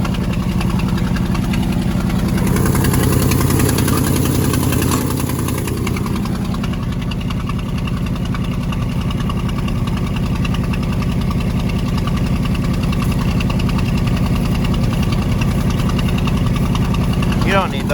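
A Ford Highboy truck engine idles loudly and close after a cold start in snow, a steady throbbing low rumble with rhythmic knocking pulses and a brief louder stretch early on.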